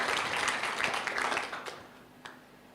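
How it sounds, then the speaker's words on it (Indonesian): A room full of people at a church service claps together, the applause loud at first and then thinning out and fading, with a few last scattered claps. "Kita beri tepuk tangan buat Tuhan Yesus."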